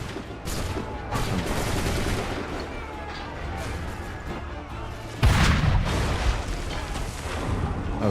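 Battlefield musket and cannon fire in Assassin's Creed 3 rumbles on continuously, dense volleys and booms under a steady din, with a louder blast breaking in partway through.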